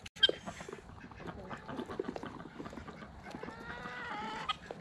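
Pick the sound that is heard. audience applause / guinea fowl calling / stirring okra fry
guinea fowl calling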